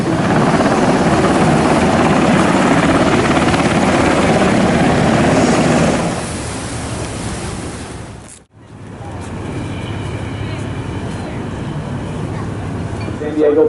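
A military helicopter roars loudly and steadily over San Diego Bay, its rotor wash filling the air, then the noise cuts off abruptly before a quieter, continuing engine rumble returns.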